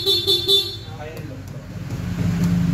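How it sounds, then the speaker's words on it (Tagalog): A Honda ADV 160 scooter's horn gives three quick, loud toots close by, followed by street and engine noise while people talk nearby. "Anong busina niya?"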